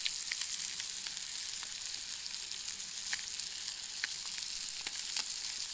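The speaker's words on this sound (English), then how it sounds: "Oh yeah, that trout is cooking up very nicely." Trout frying in a pan over a campfire-style cook, a steady soft sizzle with scattered small pops and crackles, fairly quiet and continuous, no talking.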